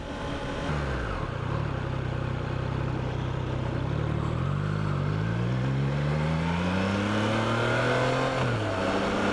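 A 2021 Triumph Trident motorcycle engine running on the road, its pitch climbing steadily as it accelerates through the revs, loud and close under wind rush.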